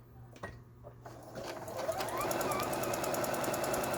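A Juki HZL-G110 sewing machine under repair testing starts with a few clicks and then settles into a steady, rapid stitching whir with a fast mechanical pulse, close and continuous, with no one speaking.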